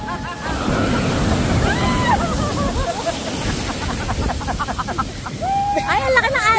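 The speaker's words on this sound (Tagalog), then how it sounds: "Ay, ang laki ng alon." Big ocean waves crash and rush steadily at General Nakar, Quezon, under several people talking and exclaiming close to the microphone, with wind noise in the background.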